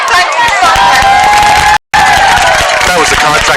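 Loud crowd cheering and clapping at a Middlesboro vs Bell County high school football game, sustained and close, with a brief dropout midway before the noise resumes.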